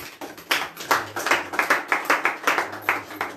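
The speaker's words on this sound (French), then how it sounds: "Nous acclamons très fort pour la gloire de Dieu." A church congregation claps together during worship, with loud, close rhythmic clapping in a steady beat of about three claps per second and no talk over it.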